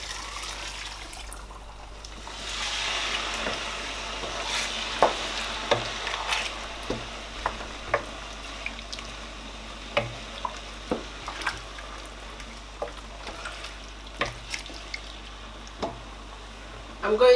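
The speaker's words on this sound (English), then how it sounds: "I'm going to add the water inside the pot." Water poured into a cooking pot on a stove, a steady splashing pour running for several seconds, dotted with light clinks and taps of kitchen utensils nearby.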